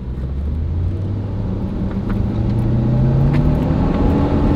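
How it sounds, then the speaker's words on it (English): Mitsubishi Canter 4x4 truck camper weighing about six tonnes, engine braking in first gear on a descent: a steady, loud engine drone with pitch slowly rising, continuous and close with no speech. "so now I'll select first gear. And this will allow me to go down and use the motor as well."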